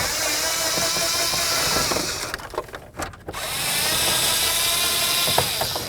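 A ratchet loosens steering column bolts on a Chevy S-10 pickup, a loud, close, rapid clicking that runs almost continuously, then pauses briefly with a few knocks before resuming.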